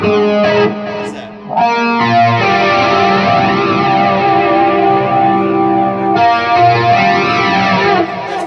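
Electric guitar played through a phaser pedal, with the tone sweeping in slow repeating waves across sustained notes and chords, loud and close, alone without talk.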